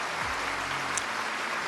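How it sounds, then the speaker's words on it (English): Crowd applause from a Madden NFL 25 video game draft, a steady wash of clapping that fills the short stretch at even loudness with no talk over it. "Getting claps."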